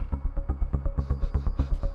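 A motorcycle engine putters nearby with a steady, rapid chugging pulse that holds at a moderate level for the whole stretch, with no voices over it.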